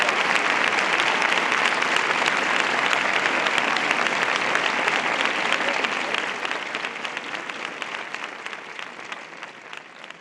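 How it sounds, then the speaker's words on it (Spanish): Applause from everyone present at a medal ceremony where a city gold medal is placed on a Virgin statue, a dense, loud wash of clapping that holds steady and then slowly thins and fades toward the end. "ante el aplauso de todos los presentes"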